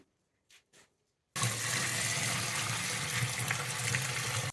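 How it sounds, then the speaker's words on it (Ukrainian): Water gushes steadily from a tap into a container holding 12 kg of pumpkin, 18 litres added for pumpkin wine; a loud, continuous pour begins after a short quiet lead-in with faint knocks. "я додаю 18 літрів води"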